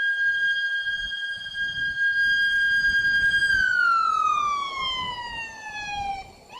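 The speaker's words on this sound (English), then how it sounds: "that sounds like a siren to me" A loud, steady mechanical siren wails alone, holding one pitch for a few seconds before sliding downward, with a low rumble beneath, at a rocket static-fire test site.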